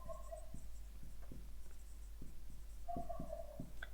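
A pen or chalk writes out a math solution, giving short, scattered strokes and taps, faint and close, in a quiet room.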